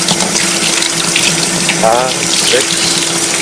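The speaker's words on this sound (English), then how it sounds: "So now we'll turn the tap on here." Water runs steadily from a household tap just after a hybrid water heater starts up, a loud continuous gush with a faint pump hum beneath, while a man counts aloud over it.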